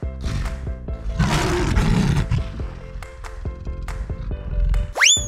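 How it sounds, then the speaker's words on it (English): A lion roars loudly and sustained over a bed of upbeat children's game music, finishing with a rising swoosh effect. "Lion."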